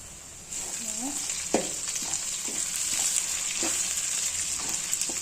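Curry leaves frying in a pan of hot oil for a spicy Telugu gravy with cowpeas, field beans and drumsticks: a steady close sizzle with a few sharp crackles and spatula scrapes, and a faint voice briefly in the background.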